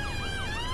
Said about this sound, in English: I think that's a police car